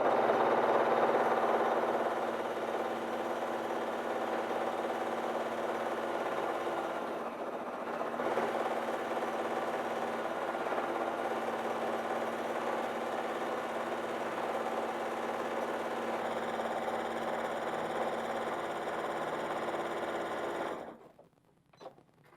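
A sewing machine runs fast and steady while sewing a circular quilt patch, a loud, close, continuous whir that holds for about twenty seconds before stopping abruptly near the end.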